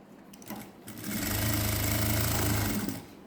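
A sewing machine runs in one steady, close burst of stitching lasting a couple of seconds as it hems the folded bottom edge of a Patiala pant, with softer handling sounds before and after.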